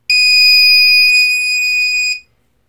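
A battery voltage checker buzzer on an RC car, the 110GT, gives one loud, shrill, steady electronic beep lasting about two seconds, then cuts off sharply.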